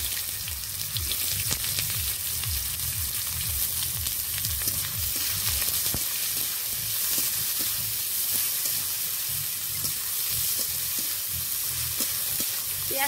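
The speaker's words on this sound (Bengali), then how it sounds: "পেঁয়াজটা ভালো করে ভেজে নেব।" Chopped onions frying in oil with whole cumin seeds, a dense close crackling sizzle running continuously, with a stirring spoon scraping the pan in a loose rhythm underneath and no voices.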